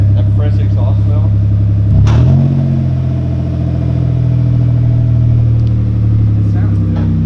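Close, loud car engine with a big wastegate and fresh exhaust, idling low then blipping up in a sharp rev before settling into a deep steady drone; a voice speaks briefly at the start.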